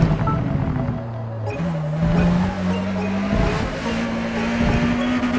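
Race car engine in Forza Motorsport held against the rev limiter, a loud, steady, buzzing drone with stepped pitch shifts, continuous throughout with no talking.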